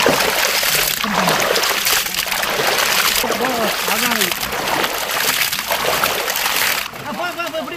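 Water splashes and sloshes as it is drained off during outdoor cooking of chicken legs and fish, a continuous splattering pour with voices talking over it.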